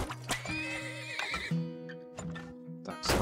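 Horses in the video game Turmoil neigh and whinny in several loud, shrill calls over soft clip-clopping hooves, with no talking.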